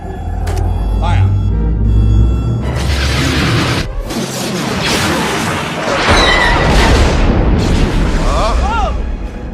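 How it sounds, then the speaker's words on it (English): In Return of the Jedi, the Death Star's superlaser fires on a rebel ship, a loud booming blast and crashing explosion over dramatic music, with voices speaking over it. "the Emperor orders the commanding general to fire on one of the rebel ships"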